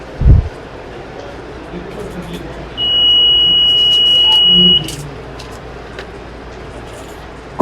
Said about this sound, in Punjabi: ਇੱਕ ਲੰਮੀ ਬੀਪ ਦੀ ਆਵਾਜ਼ ਆਏਗੀ